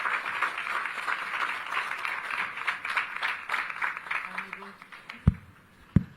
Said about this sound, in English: let's give a big round of applause to the new panel